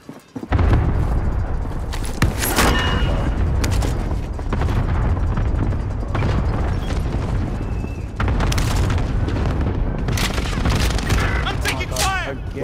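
Gunfire and explosions in Call of Duty: Modern Warfare multiplayer: loud continuous battle noise with booming blasts and rattling shots throughout, under game radio chatter and a player talking.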